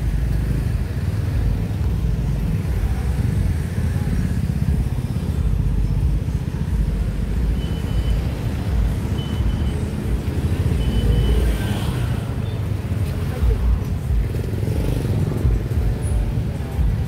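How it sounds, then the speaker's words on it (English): Dense traffic of cars and motorcycles crawls along a road near the beach in Phuket, Thailand, at night, a continuous broad rumble of engines with scattered louder passes. "Traffic jam."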